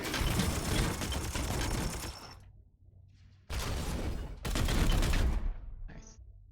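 Bursts of gunfire in Warhammer 40k Chaos Gate, with loud dense volleys cut by a pause of near silence, then two more heavy bursts and a short mechanical clatter at the end.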